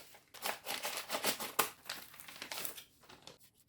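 Plastic packaging of a parcel of stickers crinkles and rustles in quick, close bursts as it is torn open, with a brief sharp rip partway through before it settles into quieter handling.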